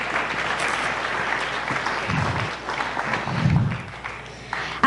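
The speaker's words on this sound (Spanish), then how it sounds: "Dale un fuerte aplauso a Dios." Congregation at a church service bursts into sustained applause, a dense steady wash of many hands clapping together, moderately loud, with a few faint voices mixed in.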